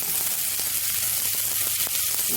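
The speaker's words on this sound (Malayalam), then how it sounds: "ചെറിയ രീതിയിൽ നമുക്കിത് റോസ്റ്റ് ചെയ്തെടുക്കാം" Pieces of taro (chembu) sizzle steadily while roasting in a pan, a continuous close frying hiss with faint stirring ticks and no voices.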